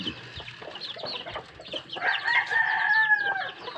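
Native chickens cluck close by in a backyard flock, with a steady mix of short clucks. A louder, drawn-out call rises over them in the second half.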